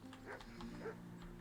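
A dog in a video game whimpering and yipping, a brief cluster of soft, high whines and short yelps, fairly quiet over a steady low game background hum.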